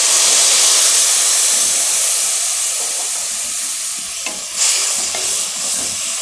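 Chillies and rice sauté with a splash of tamarind water in a hot pan, a loud steady sizzle and steamy hiss with stirring scrapes that ease slightly and then pick up near the end.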